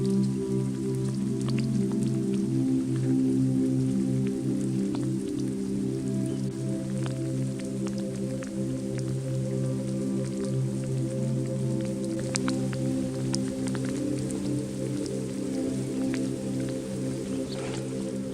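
Steady rain falls on an overnight spring camp, a continuous even patter on the tent and surroundings with scattered heavier drips, close by and unbroken, with a low constant hum beneath it and no voices.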